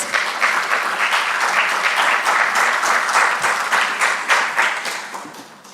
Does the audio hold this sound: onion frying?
no